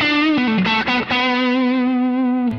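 An electric guitar played through a 1981 Inventions LVL low-gain overdrive pedal rings out a few picked notes that settle into one long, sustained, slightly gritty tone, clear and close.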